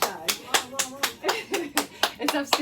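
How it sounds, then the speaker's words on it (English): Children clap along during a storytime session, about a dozen separate claps in an even rhythmic beat, close and moderately loud, with voices underneath. "give yourselves a clap"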